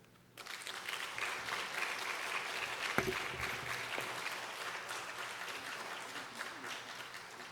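A Korean church congregation at a Friday evening gathering claps warmly to welcome the pastor, a continuous round of applause building after a quiet start, with a few voices and a brief sharp knock in the middle.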